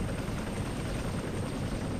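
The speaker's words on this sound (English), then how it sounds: "Of course, Brad can fly the helicopter." In the horror video game Flesh Made Fear, a helicopter gives off a steady, loud rotor and engine roar that fills the whole stretch without a break or any talk.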